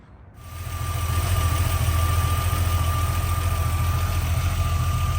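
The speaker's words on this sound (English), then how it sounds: "Even when you step on it, you can just hear the exhaust, but it's not gonna get you a ticket." A BMW E30 sedan with a Foha Vibrant exhaust starts up after a brief silence and settles into a smooth, steady, moderately loud idle with a low exhaust rumble and no talking.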